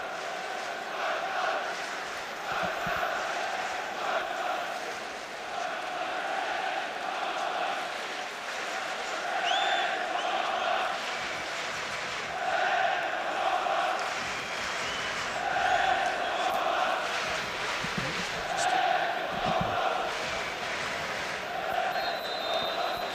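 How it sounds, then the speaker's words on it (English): A large crowd in a big Manchester football stadium at a Euro 96 match between Germany and the Czech Republic keeps up a steady distant roar, with swelling chants rising and falling throughout. "A big crowd assembled in this magnificent stadium as the match gets underway"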